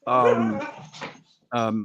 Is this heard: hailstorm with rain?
no